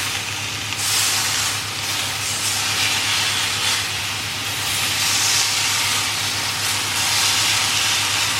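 Fillet steak searing in a hot pan, pressed down: a loud, continuous hissing sizzle that swells and eases slightly, heard up close, with a low steady hum beneath and no talk.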